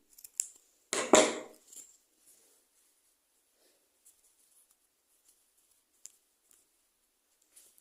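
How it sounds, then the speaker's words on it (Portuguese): Scissors snip crochet yarn after the finishing stitches of a crocheted headpiece: one close, sharp cut with a brief rustle, then near silence broken by a few faint small clicks and taps. "então, cortar o fio."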